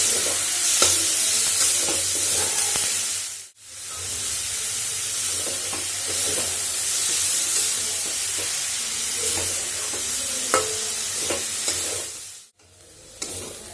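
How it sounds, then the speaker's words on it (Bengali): Salted cabbage fries over medium heat in a pan, a close, continuous sizzle with stirring scrapes and two brief drops in sound when the pan is lifted or the heat dips. "মিডিয়াম আঁচের মধ্যে ভেজে নিচ্ছি বাঁধাকপি।"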